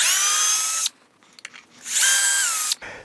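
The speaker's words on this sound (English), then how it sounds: "drill the holes for the ferrules" Power drill boring ferrule holes into an oak electric guitar body, two loud sustained whining bursts separated by a pause with a few faint clicks, the second ending abruptly.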